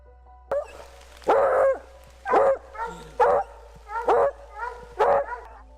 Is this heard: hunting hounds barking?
yes